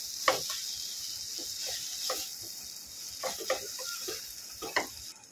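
A spoon stirs mashed boiled potato, spices and flour together in a pan over a very low flame, giving soft irregular scraping and squishing strokes over a faint sizzle, quiet and close.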